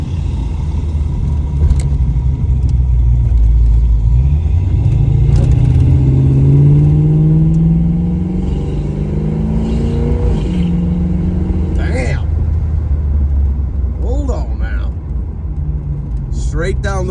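A 1966 Chevrolet Nova driving on the road, its engine a steady close rumble that rises and falls as it accelerates, with someone talking over it.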